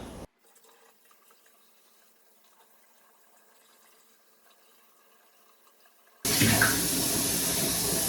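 Lukewarm water gushes from a kitchen tap on a well-fed supply, a near, steady rush that starts abruptly after several seconds of near silence and continues loud to the end.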